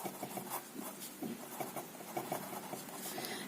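Chalk or marker scratches and taps across a board during a chemistry lesson, a quiet, close run of short strokes and scrapes with no voice over them.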